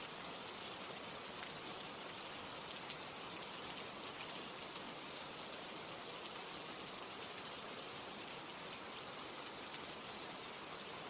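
Steady, dense rain falls during a storm after midnight, a continuous broadband hiss of drops on surfaces with no breaks or voices, even and close throughout.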